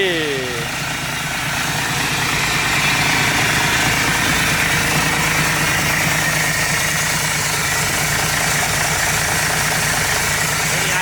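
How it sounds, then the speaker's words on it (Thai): A Nissan CW454 truck's Hino JO8E 260 hp diesel engine idles with a steady, close, rumbling drone that holds evenly throughout, with no voices over it. "เดี๋ยวมาสตาร์ทให้ชมกันครับผม นี่นะครับ JO 8E"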